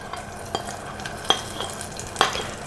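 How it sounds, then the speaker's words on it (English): Butter bubbling and sizzling in a caramel sauce while being stirred, a close, busy crackle with several sharp clinks of a spoon against the pot. "In goes the butter. And everything's going to bubble,"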